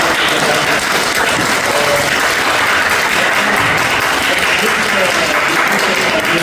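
A church congregation in Indore applauds loudly and continuously, a thick, close wall of clapping that stays intense from start to finish.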